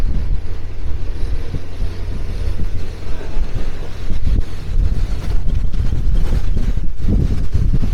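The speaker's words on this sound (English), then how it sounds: "Heading into the wind, so hopefully it's not going to spoil the audio too much." Heavy wind buffeting a microphone while walking into the wind through a London neighborhood, a loud continuous low rumble with gusty surges throughout and no clear talk.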